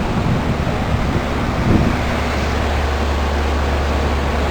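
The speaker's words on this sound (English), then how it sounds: "And the compressor's actually pretty quiet. Most of the noise is coming from the fan." A 2000 Lennox and a 2014 Ducane heat pump run in heat mode, with icing on the coils and a quiet compressor; the outdoor fan's steady broadband whoosh dominates, with a low hum underneath and no talking.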